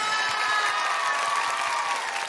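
An audience applauds and cheers steadily for a singer after her performance on a Brazilian TV variety show stage, a dense and sustained wash of clapping throughout.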